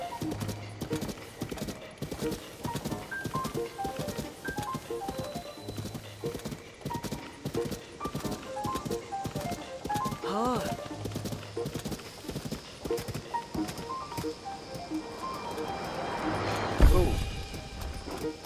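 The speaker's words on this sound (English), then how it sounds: "Oh, I need to get this horse to calm down." A horse in Zelda: Tears of the Kingdom gallops with a fast, steady clip-clop of hooves, ending in a loud thud and a neigh near the end, with someone talking over it.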